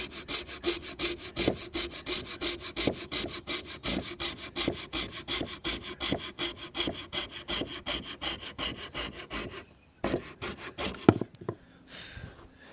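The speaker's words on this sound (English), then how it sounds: "So to have a handsaw like this is pretty nice." Handsaw cutting a Trex composite deck board, close and rhythmic back-and-forth strokes at a steady quick pace, pausing briefly near the end before a few final strokes.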